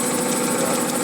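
Steady mechanical drone of an industrial air compressor running inside a corn puff factory, loud and close with an even hum and slight throb, no voices over it.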